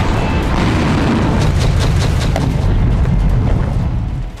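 Heavy bombing explosions in Kharkiv, Ukraine, a loud sustained rumbling roar of blasts that holds dense and booming before tapering off at the end.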